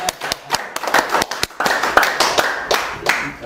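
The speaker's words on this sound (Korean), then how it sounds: "박수." An audience at a Saturday lecture claps, with scattered sharp individual claps that thicken into a fuller round of applause, fairly close and uneven in rhythm.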